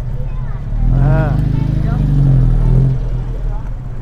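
A classic Alfa Romeo arrives at an outdoor vintage car show in Maule. Its engine note swells loudly as it draws near, rising and falling in pitch through a few seconds before easing off.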